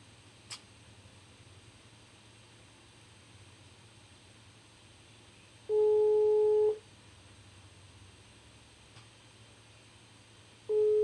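A telephone call tone sounds while phoning a preacher, two long steady tones about five seconds apart, the second starting as the clip ends, over a low background hum with no talk.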